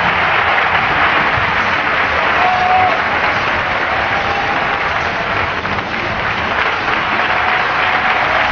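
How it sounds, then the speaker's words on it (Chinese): A large arena audience bursts into sustained, loud applause after a gymnastics routine by Li Xiaoshuang, a dense unbroken roar of clapping lasting the whole stretch. "现场顿时掌声雷动"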